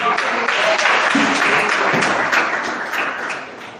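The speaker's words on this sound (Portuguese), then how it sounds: "E mais palmas para Jesus" Church congregation applauding during a Portuguese-language worship service, a steady dense wash of clapping mixed with voices that runs throughout and fades slightly toward the end.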